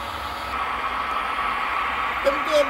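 An HO scale BNSF model train runs with a steady, noisy whirring hum that stays close and even throughout the short stretch.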